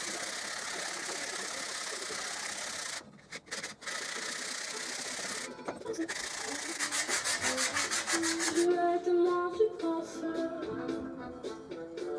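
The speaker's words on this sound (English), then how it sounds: "I started sanding with a 40 grit paper" Continuous coarse rubbing and scraping of 40 grit sandpaper on a wooden ukulele neck, steady and close, with a rhythmic mechanical whir joining in toward the end.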